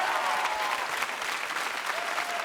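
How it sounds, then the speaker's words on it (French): An audience applauds a French TV show's production team, a dense, steady wash of clapping that stays loud throughout with a faint voice briefly audible beneath it. "on peut vraiment les applaudir bien fort"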